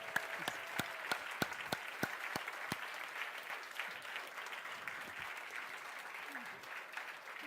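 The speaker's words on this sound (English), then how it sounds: "Please give Vinithra a huge applause" An audience applauds at an award presentation, a few sharp individual claps at first swelling into steady, moderately sized applause that gradually thins out, with some voices underneath.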